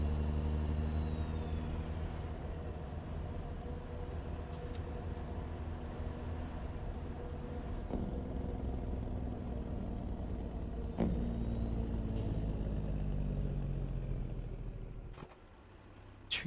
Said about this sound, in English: I love the sound of this engine though